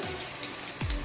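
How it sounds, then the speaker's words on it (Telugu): A glass of water pours into a hot pan of fish curry with a short, rushing splash and hiss, close and brief. "ఇప్పుడు 1 గ్లాస్ నీళ్ళు వేసుకోవాలి,"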